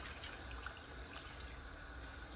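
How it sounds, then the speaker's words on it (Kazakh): Water poured into a pot over meat and vegetables browned with paprika, a steady close rushing, gurgling stream that runs evenly for a couple of seconds with no talk. "Және енді осының үстіне суымызды құямыз."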